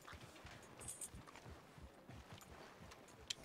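Horse hooves clip-clop at a walk in the Red Dead video game, a steady run of soft, low thuds close by, with a faint high sound and one sharp click near the end.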